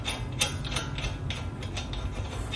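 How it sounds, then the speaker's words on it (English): A ratchet tightens the axle nut on a third-generation Toyota Tacoma wheel hub, giving a run of close, quick clicking strokes over a low steady background hum. "we tighten up the axle bolt, axle nut"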